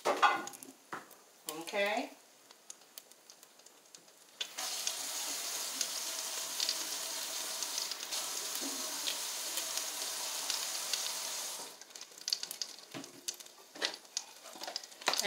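Cream cheese and butter heat in a spaghetti pot over very low heat, making a steady broad hiss that runs for several seconds between stretches of clattering and brief handling noise, with a short spoken word near the start.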